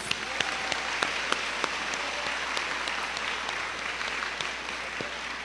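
An audience at a 2022 school commencement applauds the graduating class with sustained, dense clapping at a steady level, with a few sharper claps standing out and no voices over it.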